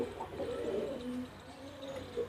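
Soft, low pigeon cooing drifts in repeated murmuring phrases against quiet background noise, fairly faint, with no talking.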